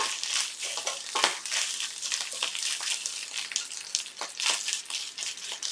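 Ginger sizzles and pops in hot oil in a pan, a continuous bright crackling hiss with frequent sharp pops, close and steady with no talking.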